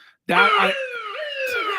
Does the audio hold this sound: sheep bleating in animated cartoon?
no